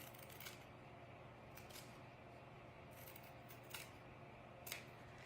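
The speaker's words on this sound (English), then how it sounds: "I'm gonna cut the flower off the backing." Scissors snipping a fabric flower free of its backing for a denim and lace rosette necklace, a few sparse, quiet cuts spread over a soft room hush, with one sharper snip near the end.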